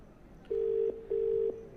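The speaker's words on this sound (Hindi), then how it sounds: "लगातार हम रिंगिंग की भी आवाज़ आपको सुनवा रहे हैं दर्शकों" An unanswered outgoing phone call rings back with two steady, evenly spaced ringing tones, each lasting under half a second with a short gap, clear over faint background hiss.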